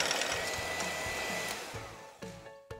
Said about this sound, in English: I'm just gonna use a hand mixer on medium speed.